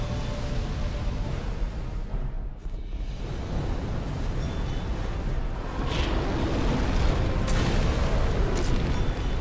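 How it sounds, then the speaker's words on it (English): Old Iron King's fire breath attack in Dark Souls 2, a dense, roaring rumble of flame that fills the whole stretch, dipping briefly partway through and then swelling again with crackling bursts. "Fire breath"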